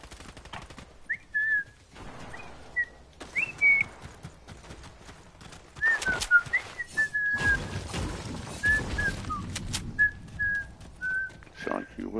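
Close whistled notes, short rising and falling chirps in a loose repeated pattern, alternating with stretches of conversation nearby.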